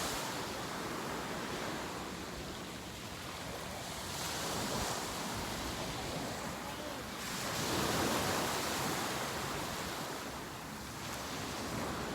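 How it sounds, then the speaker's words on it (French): Ocean waves wash steadily onto the shore in a broad, rushing swell that rises and falls over several seconds, with a soft wind hiss beneath and no voices. "Le bruit des vagues."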